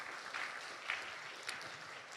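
Audience applause at a Friday night church service, broad sustained clapping that swells and fades over about two seconds at moderate distance, with no speech over it.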